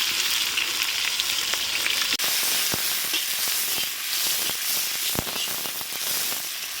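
Chopped onions sizzle in hot oil already tempered with bay leaf and cumin for aloo methi, a loud, steady close-up frying hiss dotted with sharp crackles and pops.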